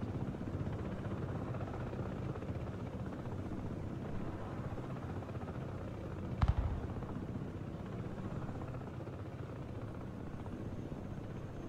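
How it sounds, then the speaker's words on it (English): Military helicopters in the game Broken Arrow: a continuous low rotor drone for the whole stretch, joined by one brief sharp crack or explosion near the middle. "A lot of choppers inbound."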